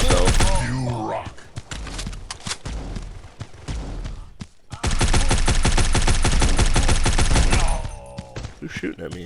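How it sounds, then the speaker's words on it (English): Rapid automatic gunfire in the mobile shooter Guns of Boom, dense loud bursts broken by a short gap midway, then a long sustained volley, with someone talking over parts of it. "Who's shooting at me?"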